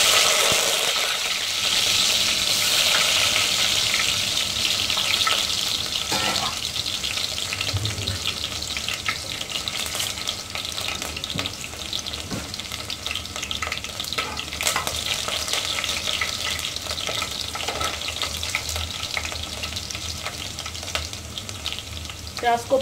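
Chopped onion and curry leaves frying in hot oil for a Goan pomfret curry, a steady close sizzle with occasional stirring scrapes throughout.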